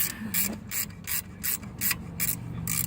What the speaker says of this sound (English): about these ratcheting combination wrenches